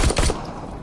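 Pistol shots ring out in the Terminator Resistance video game, a quick pair of loud, close, punchy reports packed into the first third of a second before a fading tail.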